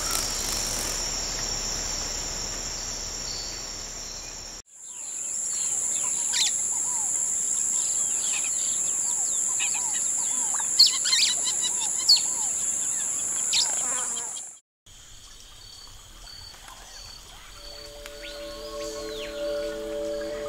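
Birds calling in Colombian Amazon forest over a dense, constant insect drone, with scattered chirps and calls and a shifting mix of whistled tones toward the end, steady and mid-distance.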